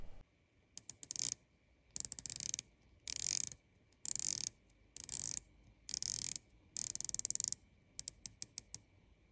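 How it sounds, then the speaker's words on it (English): The 120-click bezel of a Monta Oceanking dive watch is turned in a series of about nine short bursts of rapid, crisp ratcheting clicks, close up and quiet, with near-silence between turns. "one of the new features on this Monta Oceanking is they said they have a patent pending 120 click bezel"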